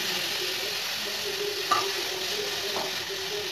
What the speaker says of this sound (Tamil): இப்படி நல்லா கிளறி விட்டுருங்க